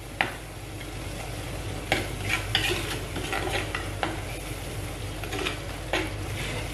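Butter cooks in a clay pot over a low flame, with a soft continuous sizzle and scattered scraping and clinking strokes of stirring, close and unaccompanied by speech.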